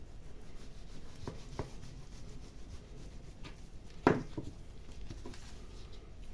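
A knife cutting diagonally through a turkey fillet into thin pieces for homemade dog treats, soft scraping strokes with a sharper knock partway through, quiet and close with no voices.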